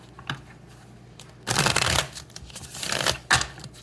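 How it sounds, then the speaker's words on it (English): Tarot cards being shuffled up close, several quick riffling bursts with soft taps between them, no talking. "last shuffle here"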